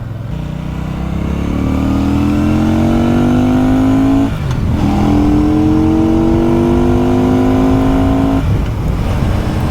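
A 2024 Benda Chinchilla 500 motorcycle accelerates hard, its engine note climbing through one gear, dropping at a shift, then rising again, loud and close with no talking.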